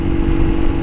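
Steady, loud motorcycle engine drone with a constant low hum and rough rumble, close by and uninterrupted for under a second, no talking.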